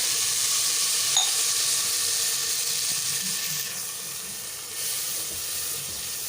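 Water poured into a pan of hot ghee and chillies, giving a steady hiss and sizzle that fades slightly toward the end, with no talking.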